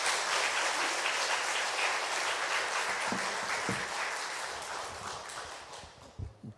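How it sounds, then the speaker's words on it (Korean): A Korean church congregation at a revival meeting applauds to welcome the pastor, loud sustained clapping from many hands that gradually fades and thins out, with a few scattered claps at the end. "우리 목사님 나오실 때 박수로 환영하도록 하겠습니다."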